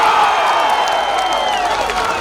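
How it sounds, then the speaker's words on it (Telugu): A dense crowd at a TDP political rally in Araku claps and cheers loudly and steadily, a continuous roar of applause and shouting that holds at full strength throughout. "గట్టిగా చప్పట్లు కూడా చెప్పండి, గెలిపిస్తామని"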